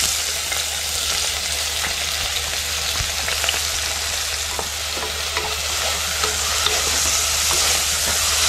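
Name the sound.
onion added to frying garlic in hot oil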